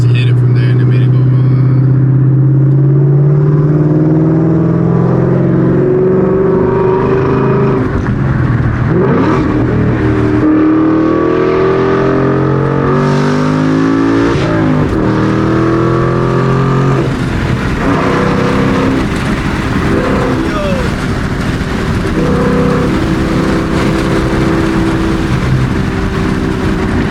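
A Ford Mustang 5.0 accelerates hard, its V8 engine roaring and rising in pitch through several sweeps, loud and close from inside the car while people talk over it.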